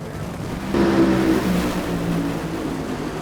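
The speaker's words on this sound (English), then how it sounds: "And the DHL Supra is driving away." A DHL Toyota Supra drag racing funny car pulls away at a drag strip during the US Nationals, its engine a steady, loud, droning roar that rises briefly and then holds a constant rumble.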